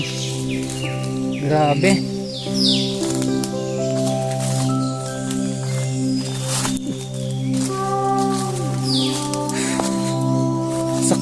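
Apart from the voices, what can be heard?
various birds singing in forest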